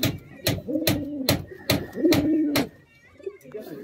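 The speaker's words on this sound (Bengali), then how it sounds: "এসব বিউটি পায়রা।" Pigeons coo in close, repeated throaty bursts with sharp clicks or wing claps between them, while a person talks briefly nearby.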